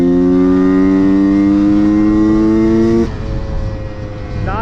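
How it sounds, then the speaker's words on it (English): A two-stroke motorcycle engine drones loud and steady at full throttle in fourth gear for about three seconds, then its pitch drops suddenly and the note roughens as it backs off. "like right now, like I'm in 4th gear, full throttle"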